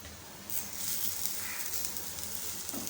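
Chopped greens are stirred into a lentil paste in a hot pan for Karnataka-style matwadi, giving a steady, close sizzling hiss from about half a second onward, with faint scraping from the stirring.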